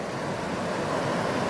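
Floodwater in Humboldt Creek by Burley Hill Road, a steady loud broadband rush of churning water, continuous and close, with no voices.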